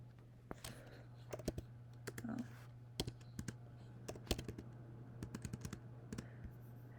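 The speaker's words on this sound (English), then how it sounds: "So I am going to type in the points." Quiet, close typing on a computer keyboard gives scattered key clicks in uneven bursts over a low steady hum.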